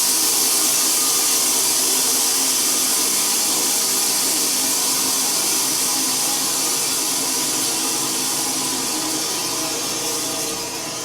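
A custom wide-cut Cremona sawmill spinning down after shutdown, a loud, steady whirring hiss with a broad airy rush that holds almost unchanged and only begins to fade at the very end.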